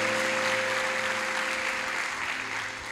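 A church congregation applauding together during a Portuguese sermon, a steady wash of many hands clapping at moderate volume, fading slightly at the end, with a sustained tone underneath.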